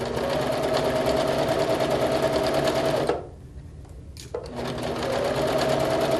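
Sewing machine stitching a quilt, a steady, fast close-up whir that stops briefly near the middle, gives a short restart, then runs on again to the end.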